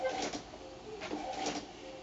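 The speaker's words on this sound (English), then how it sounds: "I've told it to print it, and here it's coming now, printing out beautifully" An inkjet printer runs a sheet of printable fabric through, printing photos with a soft, continuous mechanical whir and faint rhythmic swells of the moving print head.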